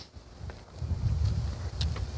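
Gusty wind blows outdoors as a cold front moves in and rain begins, a low rumbling roar that builds and stays steady, with a few faint higher rustles and no voices.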